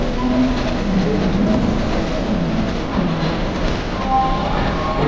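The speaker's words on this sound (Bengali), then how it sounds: "ট্রেনটা আসলো দেখুন" A train rumbles steadily nearby as it arrives at a station, a continuous rolling roar with faint rail clatter and no voices.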